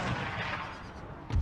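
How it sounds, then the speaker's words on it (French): Cannon fire booms in Empire Total War, a dull rumbling blast already rolling at the start and a second sharp, heavy report near the end, with no voices over it. "Les salauds, ils ont tiré au canon."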